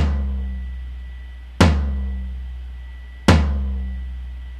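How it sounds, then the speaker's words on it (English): Three low tom drum hits, evenly spaced, each a sharp stick attack followed by a deep booming tone that rings out and slowly decays. "there's two parts of a low tom sound"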